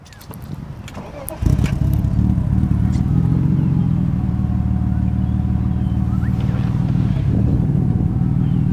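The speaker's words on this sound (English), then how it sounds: "I think, Dave, let's just give it a quick start up so they can hear what she sounds like" A tuned BMW E36 M3 Evo with a full exhaust cranks and catches, then settles into a loud, deep, steady exhaust burble that idles on without interruption.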